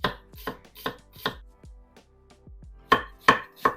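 A Japanese Damascus steel knife finely chops onion on a cutting board, with sharp rhythmic knocks in two quick runs separated by a short pause, close and crisp.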